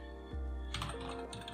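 Keys clatter on a computer keyboard while text is entered in the Nano editor in a Linux terminal, a short run of close, quick keystrokes after a brief quiet start, with no speech.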